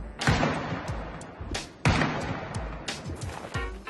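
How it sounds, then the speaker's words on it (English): Distant gunshots from an anime, Heavy Object, come as several sharp, booming bursts spaced irregularly, each with a short rumbling tail, and no voices are heard. "But then I heard gunshots and started to get curious."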